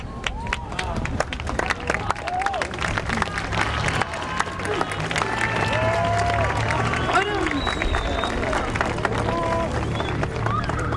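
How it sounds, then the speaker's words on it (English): Graduates and audience at a high school graduation ceremony applaud, a dense, steady wash of clapping that swells and holds for several seconds, with crowd murmur and some cheering mixed in. "please stand and take a moment to applaud all those people that have helped us"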